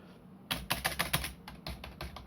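Keys clack on a SteelSeries mechanical gaming keyboard, a close, quick burst of about a dozen sharp strokes in an uneven typing rhythm, with no talking.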